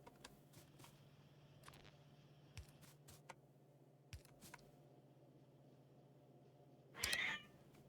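A single short cat meow rings out near the end, loud and close over a quiet room hum, with a few scattered keyboard taps earlier while someone plays Factorio.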